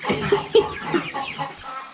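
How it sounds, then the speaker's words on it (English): Several chickens, including silkies, cluck and chatter close by, a busy run of short, choppy calls overlapping one another. "That's a lot of chickens we moved."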